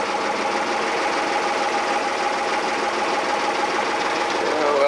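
Fisher 30 sailboat's inboard engine idles steadily after starting, an even mid-pitched mechanical hum with a fine regular knock, close and constant, swelling slightly at the end.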